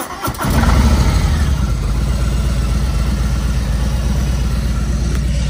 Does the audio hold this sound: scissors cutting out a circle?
no